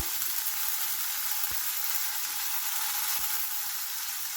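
Tofu frying in olive oil in a pan, a constant close hiss and crackle of sizzling oil with a couple of faint soft knocks, no voices.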